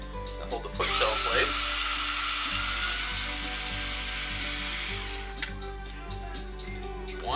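A power drill backs out the screws that hold a foot shell during a COM-8/Holme 3-2-3 conversion. A loud, steady motor whine runs for several seconds, then winds down to lighter clicks and handling noise.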